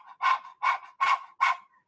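A person panting like a dog with the tongue out during a guided breathing exercise: four rhythmic, breathy huffs in even succession, close and clear, with no talk over them.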